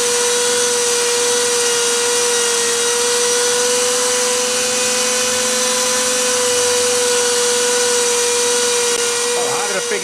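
Lathe cutter taking a cut on a fitted wooden lid, a loud continuous high whine with a steady tonal hum that stays even throughout.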